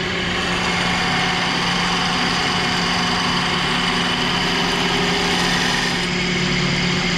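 A wood lathe brought up to speed while a cutting tool is drawn across the spinning surface, giving a loud, steady whirring drone with a constant hum and no pauses.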